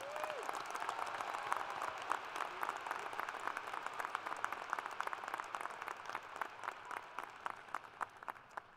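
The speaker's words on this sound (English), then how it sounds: "A round of applause for these outstanding students." A commencement crowd gives sustained applause for the graduating students, a dense wash of many hands clapping steadily throughout, loud and continuous with a brief tone at the start.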